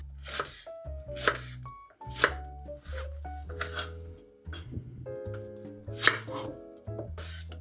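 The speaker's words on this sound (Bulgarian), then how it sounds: "Лука, както казах, режем на едро, направо на полумесеци." Knife chopping an onion into coarse half-moons on a cutting board, a quick series of crisp, close thuds and slices in irregular bursts, with no talking.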